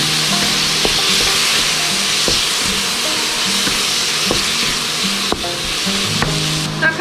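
Ground meat is stir-fried in a wok with ginger and garlic for mapo tofu, giving a loud, steady sizzling hiss broken by sharp clacks of a spatula scraping and tossing.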